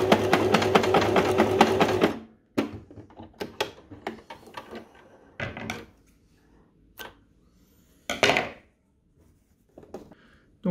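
A sewing machine, just repaired after a jammed hook, runs a continuous stitching burst for about two seconds, then stitches again in shorter intermittent runs separated by pauses and small clicks and handling knocks, testing straight and zigzag stitches.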